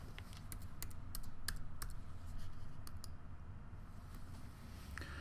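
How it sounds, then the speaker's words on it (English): Rapid keystrokes on a computer keyboard entering a patient ID, a close, steady run of light clicks with short pauses, alone without talk. "I'm just going to type my patient ID and press the lookup button."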